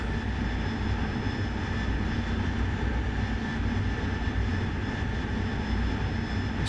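A jet aircraft engine roars during a landing approach in a flight simulator game, a loud, dense and unbroken drone that holds steady throughout with no voices.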